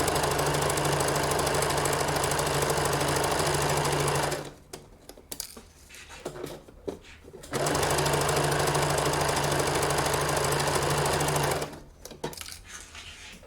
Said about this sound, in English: And off we go under the sewing machine, 1 centimeter seam allowance.